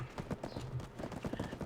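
Horse hooves clip-clop in a steady rhythm while a mount is ridden through a small town in the Black Desert Online video game, the footfalls close and distinct over a low game ambience.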